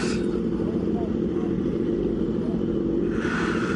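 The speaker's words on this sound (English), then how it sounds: "We got bikes and stuff going on over here." Motorbikes pass nearby outdoors, a steady low engine rumble that swells louder toward the end, continuous for a few seconds with no talk.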